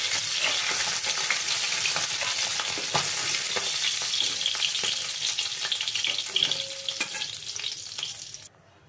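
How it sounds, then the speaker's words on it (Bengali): Fish pieces frying in hot oil in a home kitchen, a steady dense sizzle with crackling pops and occasional stirring clinks, close and continuous until it cuts off at the end. "বাদ বাকি মাছগুলো ভেজে নিয়ে আমি ফিরে আসছি"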